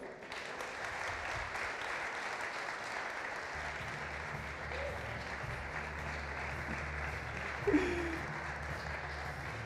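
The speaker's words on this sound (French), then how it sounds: "On peut les applaudir encore." Audience applause for award winners at the Paris Retail Awards ceremony during Paris Retail Week 2016, a steady dense clapping that runs for the full length, with a brief louder burst near the end.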